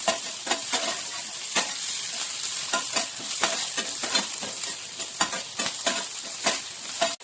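Garlic, green chili, curry leaves and mint fry in hot oil, a steady crackling sizzle broken by frequent stirring scrapes, close and fairly loud with no voices.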